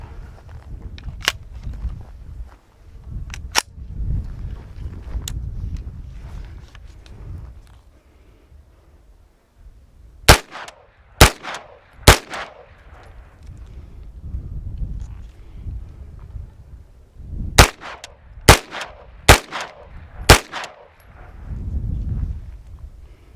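B&T GHM9 Compact fired at an outdoor range from about 6 yards, sharp loud reports in separated bursts, first three spaced shots, then a quick group of three, then another four, with quiet wind and handling between.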